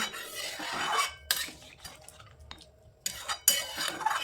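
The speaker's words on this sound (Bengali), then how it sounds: "দিয়ে দেওয়ার পর আবারও ভালো করে মটনের সাথে খুব ভালোভাবে মিশিয়ে নিতে হবে।" Mutton mixed with green chillies and roasted spice powder is stirred in a metal pot, a spoon scraping and clanking against the sides in irregular strokes, with a couple of sharp metallic knocks, close up.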